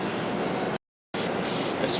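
Aerosol release spraying onto a rubber vulcanization press mold, a steady hissing burst that cuts off briefly, then resumes in uneven pulses, close and fairly loud with no talking.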